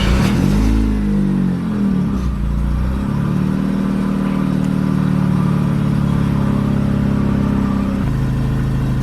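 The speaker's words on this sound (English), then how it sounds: "Now we can enjoy and listen to the turbo sounds" A Mazda RX-7 engine revs up and down several times, pitch sweeping and climbing, then holds a high, steady drone with a whistling turbo whine.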